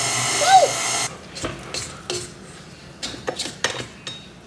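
An electric stand mixer whirs briefly through sticky sourdough bread dough in a home kitchen, a steady motor hum that cuts off, followed by scattered clinks of bowl and utensils under quiet talk.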